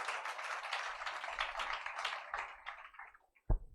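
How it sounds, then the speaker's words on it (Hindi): A church congregation claps hands in thanks to the Lord during a Sunday sermon service: dense, steady crowd applause that thins and fades toward the end, finishing with a single sharp clap. "ताली बजाकर प्रभु का धन्यवाद कीजिए"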